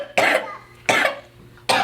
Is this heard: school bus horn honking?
no